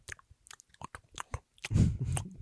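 A voice imitates chewing with wet, crunching mouth sounds, scattered clicks giving way to a louder run of munching near the end, close and alone.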